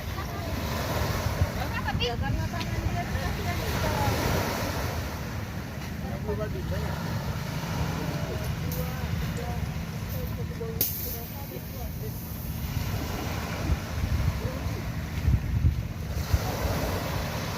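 Steady roar of wind and heavy rain over open water, with surf washing continuously and faint voices now and then beneath the noise.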